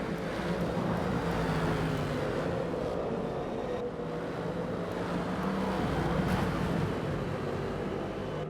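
Racing engines of a BMW and another German race car in a Sebring sim race, a steady loud drone as they run down the straightaway together, continuous with no breaks.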